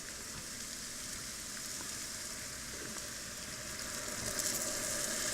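Sweet Marsala wine hisses and bubbles as it cooks down in a pan with butter and mushrooms, a steady, close sizzle that swells slightly toward the end.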